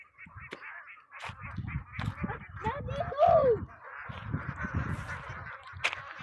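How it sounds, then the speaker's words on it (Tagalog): Ducks on a duck farm in the Philippines, with a brief honking, quacking call rising above a steady crowd of birds while people talk over much of it. "Puro itik po yan."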